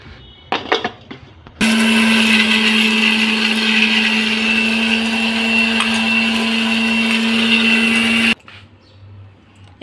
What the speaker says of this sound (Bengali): এবার আমি পিষি।